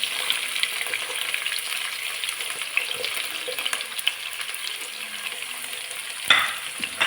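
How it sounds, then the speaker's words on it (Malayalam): Sliced shallots and onion sautéing in a pan for a simple chicken curry, with a continuous hissing sizzle, light stirring clicks and a sharp scrape near the end. "അതിൽ നന്നായിട്ട് വഴറ്റി കൊടുക്കാം."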